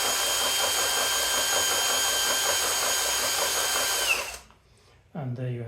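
A power driver set to its lowest torque spins a 3D-printed wool and yarn winder, giving a steady, loud whirring drone for about four seconds before it stops abruptly, followed by a brief silence and then a voice speaking.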